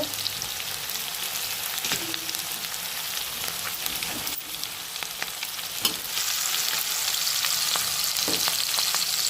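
Upma ingredients fry in a pan with a steady, close sizzle and crackle, broken by occasional stirring scrapes and clinks.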